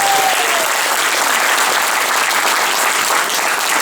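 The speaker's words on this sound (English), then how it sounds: "Give them a boot of applause." Loud, dense applause from a charity trad music concert audience thanking the catering team, a continuous roar of clapping throughout.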